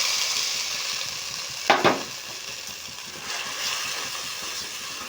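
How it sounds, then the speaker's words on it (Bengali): Green pea paste frying over low flame in a pan with nigella seeds and asafoetida, for kachori filling, produces a steady low sizzle with one sharp scraping stir partway through and a slight swell afterward. "এবারে এটাকে লো ফ্লেমে ভালো করে ভাজবো"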